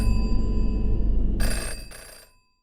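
A telephone rings close and loud in a continuous bell trill, then stops abruptly and leaves silence, with no one talking.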